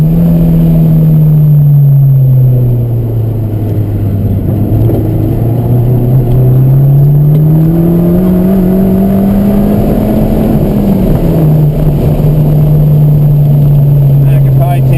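A lowered Abarth's engine drones loudly from inside the cabin, its pitch rising and falling as the car is driven and slowed, while someone talks over it.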